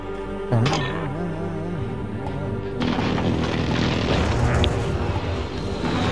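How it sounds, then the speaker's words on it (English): Precision airstrike explosions in Call of Duty Warzone: a rolling, rumbling barrage of booms builds under game sounds and a brief tonal alert, dense and continuous for several seconds. "Enemy precision airstrike. Take cover."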